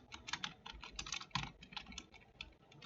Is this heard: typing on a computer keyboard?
yes